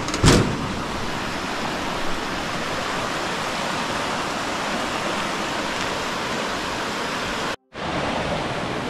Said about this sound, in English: And the waterfall is there.